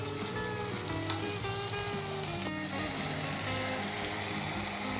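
Cabbage bhujia with softened tomatoes sizzles steadily in a pan, a continuous loud frying hiss with occasional scraping stirs, no voices.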